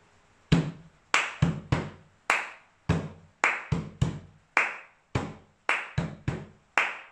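Body percussion: sharp hand strikes and claps land one at a time in a repeating rhythmic pattern, about fourteen crisp hits close by, each decaying quickly into quiet.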